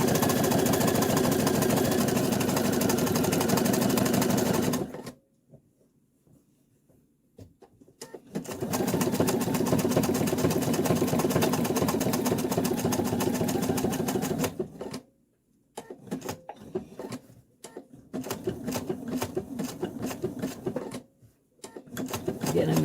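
A sewing machine satin stitches an angel applique in loud, rapid mechanical bursts, stopping and restarting several times with short pauses between runs, up close with no other sounds.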